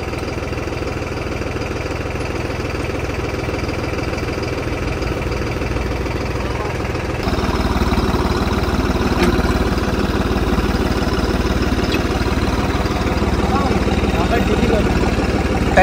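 A New Holland 3630 tractor engine idles steadily with a low, chugging rumble and mechanical vibration, growing slightly louder midway and running continuously nearby.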